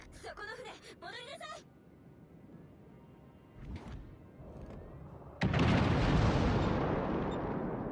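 Heavy warship guns in World of Warships Legends open up in a sudden loud, sustained roar of naval gunfire and shell impacts after quieter battle ambience, with a short burst of speech at the start.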